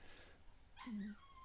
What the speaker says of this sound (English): you can hear my dog's crying now